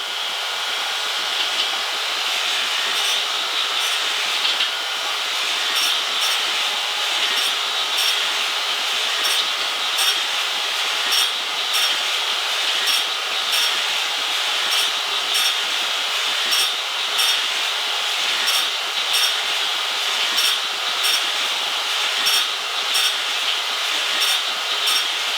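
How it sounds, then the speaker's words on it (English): Steady high-pitched grinding on a metal V-block, a continuous close whine with faint rhythmic pulses throughout and no talking. "ready to start grinding that side in"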